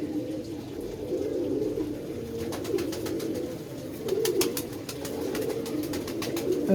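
Pigeons cooing together nearby, a steady low warbling murmur of overlapping coos, with sharp ticking clicks scattered through the later part.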